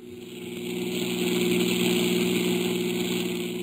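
A car engine hums steadily in a 1949 detective radio drama, a smooth, even mid-pitched drone swelling slightly in the first second and then holding, with no voices.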